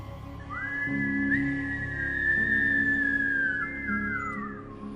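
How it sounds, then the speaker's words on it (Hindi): A long, sustained whistle rings out at night, loud and close, holding a wavering tone for several seconds over a low steady hum, with no voices. "एक लंबी सीटी।"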